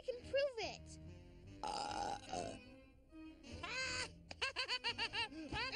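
A cartoon character lets out a series of loud, gurgling burps in the Lilo & Stitch animated series, the belches coming in several bursts with short gaps and ending in a rapid string of pulses, with voices around them.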